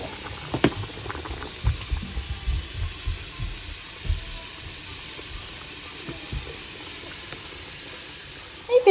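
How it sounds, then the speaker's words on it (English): A pot of rice boils quietly, with soft bubbling and scattered low pops rising and bursting under a gentle background hiss. "this is our rice boiling."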